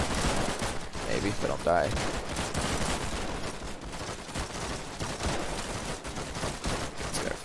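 An MP40 submachine gun in the video game Warfare 1944 fires in dense, continuous bursts, loud and close throughout, with someone talking briefly over the shooting.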